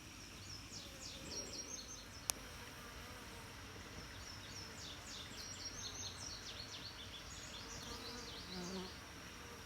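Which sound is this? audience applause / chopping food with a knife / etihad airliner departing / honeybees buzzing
honeybees buzzing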